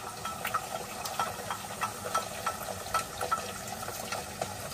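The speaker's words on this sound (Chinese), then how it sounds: "第二个菜下锅" Food sizzles steadily in a pan over a camping stove at a seaside campsite, a faint continuous hiss with small crackling pops scattered throughout.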